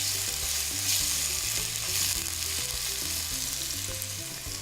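Onions caramelizing with a little sugar in olive oil, sizzling and crackling steadily and closely in the pan, loud and continuous without talk.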